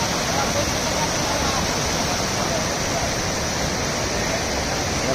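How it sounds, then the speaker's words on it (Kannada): Malahalli waterfall, set in forest, roars as a dense, steady broadband rush of falling water, loud and unbroken from start to finish. "ಏನು ನೋಡ್ತಾ ಇದ್ದೀರಿ ಈಗ, ಇದು ಮಳ್ಳಳ್ಳಿ ಫಾಲ್ಸ್ ಅಂತ."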